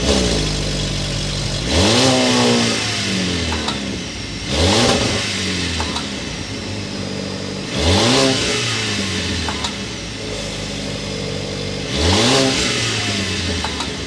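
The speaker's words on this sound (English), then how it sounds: "Let's go inside, start it up so you can hear that exhaust note." A 2023 Volvo XC90 Recharge hybrid with turbocharged and supercharged power revs four times from idle, each exhaust blip surging sharply and then falling back to a steady rumble, close and loud with no talking.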